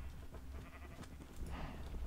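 Sheep bleating in the Minecraft game world, a few short bleats over a steady background hum, moderately faint.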